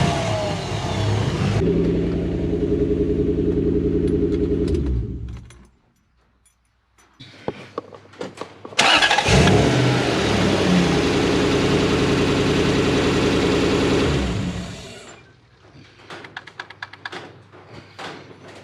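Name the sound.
Toyota Hilux 1UZ V8 engine starting and idling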